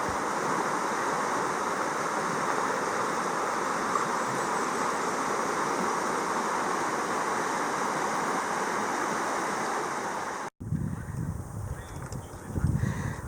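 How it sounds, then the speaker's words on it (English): Steady rushing water of a big creek crossing on the Centennial Trail in the Black Hills, South Dakota, loud and continuous broadband flow close by, cutting abruptly near the end to a quieter outdoor scene with low rumbles. "Our first big creek crossing."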